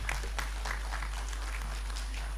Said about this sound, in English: Why aren't you clapping?